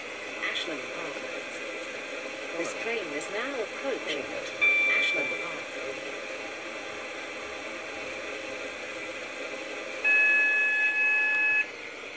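A commuter train on the Waterline route toward Connolly rumbles steadily through the carriage under a constant hiss, with faint beeps and electronic tones sounding intermittently over the running noise.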